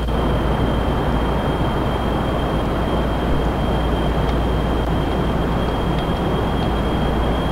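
An aircraft engine roars at takeoff on the runway in Kerbal Space Program, a loud, steady broadband rumble with a constant high whine running throughout.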